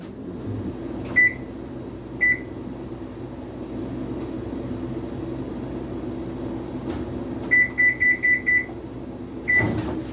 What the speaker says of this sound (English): So I'm going to set my timer for an hour.